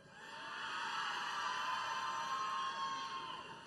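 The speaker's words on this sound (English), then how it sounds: "It's always a rowdy crowd." A rowdy crowd at a presidential campaign rally in Miami Gardens, Florida, cheers and whoops in one sustained roar that holds steady for several seconds, loud and full with no clear speech above it.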